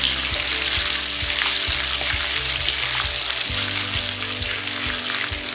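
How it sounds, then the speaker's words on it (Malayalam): Cinnamon, cardamom and cumin seeds sautéing in oil over a low flame give a steady, close sizzle with occasional soft stirring clicks, no voices. "2 പീസ് കറുവപ്പട്ട, 3 പീസ് ഏലക്ക, 1 ടീസ്പൂൺ നല്ല ജീരകം ഇവ ചേർത്ത് നമുക്ക് ലോ ഫ്ലെയിമിലിട്ടൊന്ന് വഴറ്റിയെടുക്കാം"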